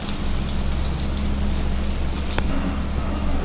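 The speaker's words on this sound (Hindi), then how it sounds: "इस तरह से हम सभी को फ्राई कर लेंगे।" Poha cutlets frying in oil in a pan, a dense, even sizzle and crackle that holds steady throughout, with one brief clink partway through.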